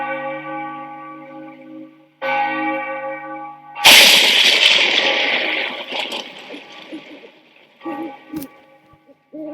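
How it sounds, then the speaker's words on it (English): A church bell rings out as a sound effect in a Macbeth audiobook, a loud resonant tolling with sustained harmonic tones that swell, decay and strike again, with a dense clangorous burst midway. "The bell invites me."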